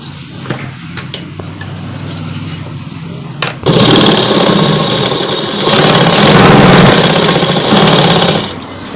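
Sewing machine stitching a collared night suit: a few sparse ticks, then a sudden loud, fast continuous whir of the needle running for several seconds before easing off.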